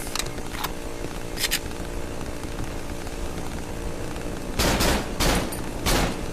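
Gunfire in the horror video game Cry of Fear comes as scattered sharp bursts: a few early shots, then louder clustered blasts near the end, over a constant rumbling background.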